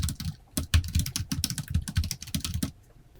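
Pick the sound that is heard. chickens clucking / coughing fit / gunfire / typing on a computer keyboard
typing on a computer keyboard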